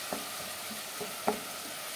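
Tomato paste sizzling in a hot pan while a spoon stirs it, a steady quiet fry hiss broken by a few soft scraping clicks, with no talk.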